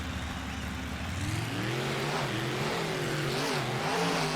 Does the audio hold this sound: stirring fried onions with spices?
no